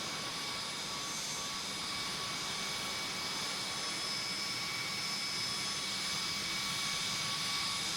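Jet engine roar of an Embraer 145 regional jet in the Tower! Simulator 3 airport game at Burbank, a steady broadband whine with tonal hums held evenly throughout, with no talk.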